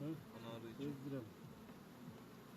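Honey bees buzz steadily at a beehive during a beekeeping inspection, a dense, continuous drone close to the hive, with faint voices in the background.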